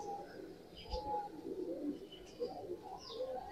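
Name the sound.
pigeons cooing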